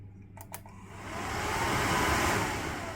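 An aftermarket heater blower motor for a Mercedes-Benz W108/109, clamped in a vise for a bench test, gives a couple of brief knocks and then spins up into a steady, rising airy whir.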